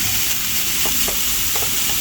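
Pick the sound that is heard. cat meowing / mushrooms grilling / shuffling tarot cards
mushrooms grilling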